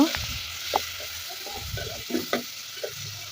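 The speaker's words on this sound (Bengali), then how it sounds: "এখন আমি একটি হাঁড়ি বসিয়ে চোলাই তাতে পেঁয়াজ কুচি দিয়ে দেব" Chopped onions fry in a pot with a steady, close sizzle, broken by scraping and clacking as a spoon stirs them.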